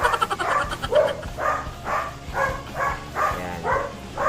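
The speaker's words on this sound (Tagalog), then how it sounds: "Sensya na kayo sa mga aso guys." Several dogs bark in a steady run of about eight repeated barks, fairly close and moderately loud, with background noise underneath.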